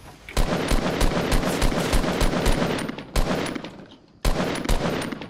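Rapid automatic gunfire in a Fortnite Battle Royale match rattles on loud and steady in dense bursts, cutting off briefly about a second before the end and then resuming.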